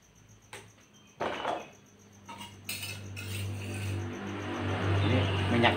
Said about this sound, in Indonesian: Setelah bumbunya kita ulek agak apa tuh namanya lembut, lalu kita tumis sebentar ya.